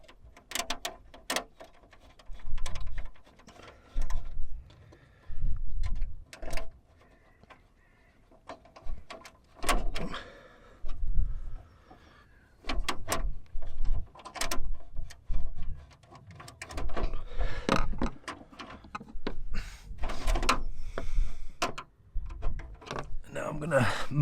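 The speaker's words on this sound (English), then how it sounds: "So we've just manually lowered the MaxxAir Fan, so what I'm going to do is put these screws back in." Screws being driven back into a MaxxAir roof fan on a vehicle roof, bursts of clicking, ratcheting turns repeated in uneven spurts with short pauses between them.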